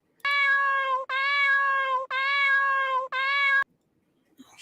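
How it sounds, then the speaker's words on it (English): Cat giving four long, loud, insistent meows in close succession, each one near and clear, followed by a short pause and faint movement noise. "My cat got stuck."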